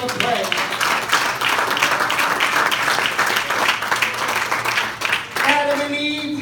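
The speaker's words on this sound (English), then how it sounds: "Give him a great big hand clap of praise." A church congregation gives a loud, sustained burst of hand-clapping praise on Resurrection Sunday, a dense wash of applause that holds steady for several seconds before thinning near the end as musical tones come in.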